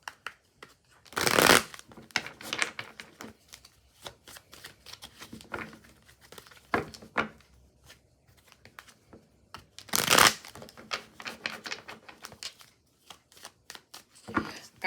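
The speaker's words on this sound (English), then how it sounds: "I'll do a shuffle and then pull your cards." Tarot cards are shuffled in two loud riffling bursts, with softer intermittent card handling and taps between them, close by and with no talking.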